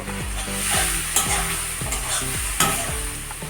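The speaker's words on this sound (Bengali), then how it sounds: "আলুগুলো দিয়ে ভালো করে কষে নেব" Potato pieces fried and stirred in a pan with turmeric and ginger paste for a fish curry, with steady close sizzling and repeated scraping strokes of a spatula roughly every half second.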